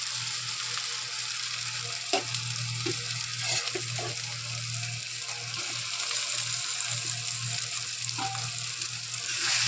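Prawns frying in a pan with chili powder, a steady close sizzle and hiss running throughout, with a few soft taps and stirring scrapes of a utensil.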